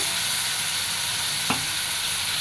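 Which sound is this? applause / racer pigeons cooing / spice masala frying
spice masala frying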